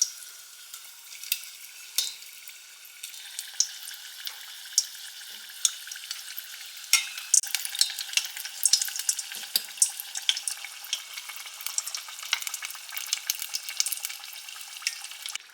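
Egg rolls frying in hot oil in a pan, a steady bright sizzle with scattered crackling pops that grows busier partway through, close and alone with no talking.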